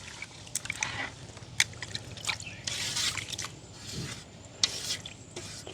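Water drips and splashes as it is poured off soaked sesame seeds in a village kitchen, with wet stirring squelches and trickles coming in close, uneven bursts.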